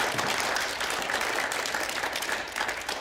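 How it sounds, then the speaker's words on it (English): A room full of people gives a speaker another round of applause at a Lent mission partners gathering for the Center for Hope & Health. Steady, full clapping runs without a break. "Let's give our speaker one more round of applause"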